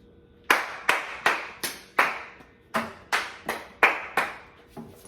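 Ten sharp hand claps in an uneven rhythm, close and crisp, with brief gaps between them and no talking.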